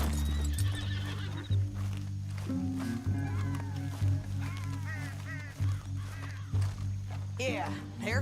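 Horses in the Western video game Red Dead Redemption 2 whinny and snort amid clip-clopping hooves and game music, with speech in places, while a rider dismounts in a canyon.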